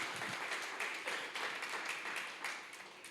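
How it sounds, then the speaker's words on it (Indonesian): Congregation at a Sunday church service clapping together for the ministers, a steady wash of dense applause held for about three seconds and easing slightly toward the end. "Boleh saya minta jemaat Tuhan untuk tepuk tangan buat hambanya."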